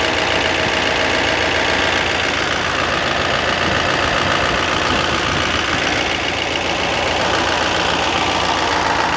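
A car engine idling after an exhaust repair, steady, loud and close with a deep rumbling burble and no variation in pace throughout.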